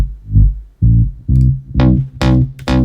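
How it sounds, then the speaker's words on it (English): Synth bass layered over a deep sub bass beneath it, playing a rhythmic run of buzzy notes that grow brighter and more distorted as they go, loud and up front. "Then I have the sub bass playing underneath."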